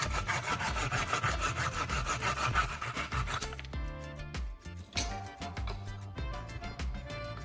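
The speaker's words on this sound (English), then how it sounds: "Next, I cut a small triangular piece of wood to create a long rectangular piece of wood." A small piece of wood is sawn by hand in steady back-and-forth strokes for about three and a half seconds, then lighter scraping and tapping follow, close and fairly loud with no talking.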